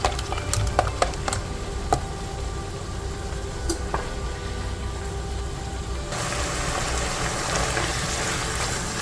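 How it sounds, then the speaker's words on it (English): Sausage fries in a pan with a steady dense sizzle and scattered crisp pops and ticks, close and fairly loud, growing brighter and fuller near the end, with no talking. "Our sausage is browned up pretty good here."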